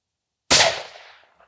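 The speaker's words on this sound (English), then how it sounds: "Here is Betsy taking a couple of shots off the bench just to confirm the zero for her." A single rifle shot fired from a shooting bench while checking a scope's zero before deer season: one sharp, loud crack after a moment of silence, decaying into a short echo with a faint click at the end.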